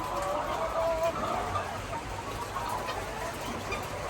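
Egg-laying chickens on a chicken farm keep up a steady murmur of clucking and soft calls, with overlapping birds heard at moderate distance over a constant background hum.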